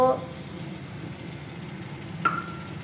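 Paneer and tomato fry in a pan with dried chili paste, giving a steady, quiet sizzle throughout, a brief louder clatter at the start and a short stirring sound near the end.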